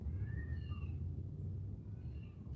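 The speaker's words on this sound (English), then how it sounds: "cats are yelling in the background" Cats yowling and caterwauling faintly outside during a cat fight, drawn-out wavering cries heard at a distance over a low background rumble.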